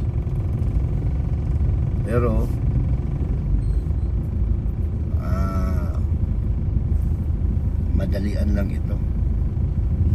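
Road traffic on a public highway in Dagupan City, with a constant low engine rumble of passing vehicles throughout and someone talking over it several times.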